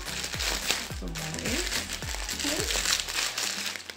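Plastic wrapping crinkles and rustles as a taped-up parcel holding a belly dancing scarf is opened, steady crackling up close while someone talks over it.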